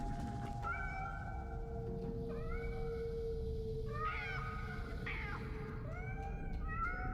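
Several cats meow and yowl in Nine Sols, drawn-out overlapping calls rising and falling one after another over a steady low background hum.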